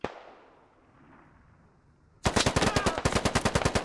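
Gunfire in the tactical shooter game Squad: after a fading boom and quiet tail, a loud, close automatic burst of rapid, evenly spaced shots rattles on for over a second.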